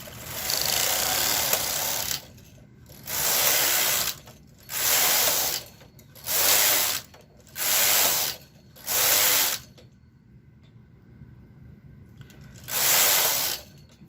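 Yarn being knitted into rows for a yoke sweater on a home knitting machine: the carriage makes seven loud whooshing, rattling passes back and forth, each lasting about a second, with brief quiet gaps and a longer pause before the last pass.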